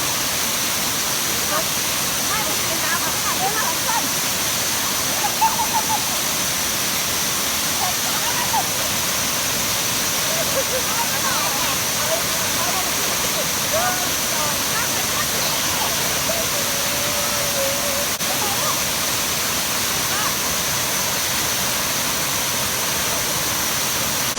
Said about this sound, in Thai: เจเจบอกว่าตั้งแต่เกิดมาไม่เคยเล่นน้ำตกนะคะ